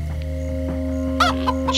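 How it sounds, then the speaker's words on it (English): A few short Minecraft: Story Mode chicken clucks pop up near the end over a steady electronic hum, sounding like game audio. "Chickens."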